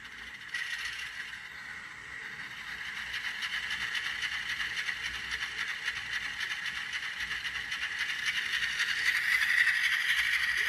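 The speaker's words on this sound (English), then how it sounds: "Let you guys hear how she sounds like just sitting there idling there." An N scale model locomotive sits idling with its parking brake set, giving a steady, fine mechanical whir and buzz that grows slightly louder and brighter toward the end, heard up close with no talk.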